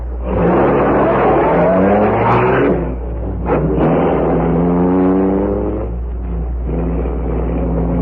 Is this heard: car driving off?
yes